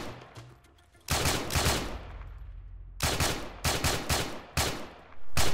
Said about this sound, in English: the silencers included in the pack allow you to have custom weapon sounds for silenced as well as